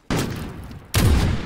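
Grenade explosion in a sniper-only custom video game match: two loud, sharp blasts in quick succession, each followed by a brief rumbling tail.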